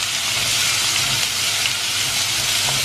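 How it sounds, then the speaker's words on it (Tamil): Onions, small shallots, tomato and green chili fry in hot ghee in a pan, giving a steady, even sizzle and hiss that stays close and constant throughout, with no voices. "அந்த நெய்யில் வந்து 2 மினிட்ஸ் ஃப்ரை பண்ணி விடலாம்"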